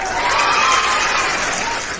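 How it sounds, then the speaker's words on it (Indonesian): Crowd cheering and applause sound effect, a loud, dense wash of clapping and shouting voices held steady for about two seconds, fading slightly at the end. "saya kasih sorakan ya"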